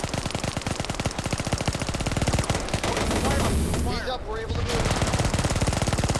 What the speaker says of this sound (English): That's the Hopper firing down.